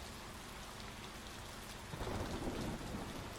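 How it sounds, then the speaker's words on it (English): Rain pours steadily in Trainz Simulator 3 on the Bavarian Immenstadt–Oberstdorf line, then a deep rumble of thunder swells in about halfway through and rolls on under the downpour, with no voices. "Oh, it's thundering now."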